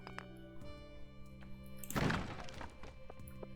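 A sword strikes a treasure chest in Stardew Valley, giving one dull, woody thunk with a short crunchy burst, heard at close range over quiet game ambience.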